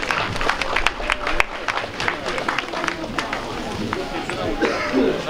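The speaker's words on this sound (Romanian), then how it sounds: "Aplauze." Applause fills a chapel during a consecration service, a crowd clapping steadily with sharp individual claps and murmured chatter underneath, continuing throughout.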